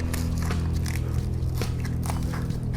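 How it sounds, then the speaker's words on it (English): Aluminum foil is crunched up and forced into a gap between small veneer stones, a dense stream of crinkling and crackling that is close and continuous, with no talk. "Take some aluminum foil and then just kind of crunch it up and force it into the space"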